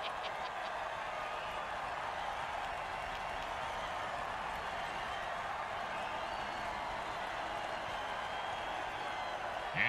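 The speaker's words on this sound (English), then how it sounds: "Crowd's loving it." Steady roar of a cheering stadium crowd in a football video game, a dense continuous wash of noise held at even loudness throughout with no pauses.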